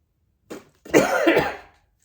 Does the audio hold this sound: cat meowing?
no